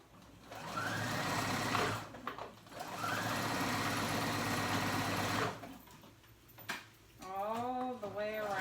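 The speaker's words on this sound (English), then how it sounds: "So now I'm attaching that on with a zigzag stitch." A sewing machine runs zigzag stitches on swimsuit fabric, a steady whirring hum in two long runs separated by short pauses, with a voice near the end.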